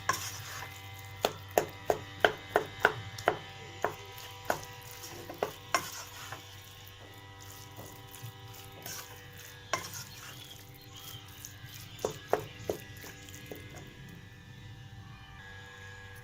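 Mashed potato is stirred into a pea kurma in a pan, a spoon scraping and tapping in a quick rhythmic run of about a dozen knocks over a faint sizzle, with a few more near the end.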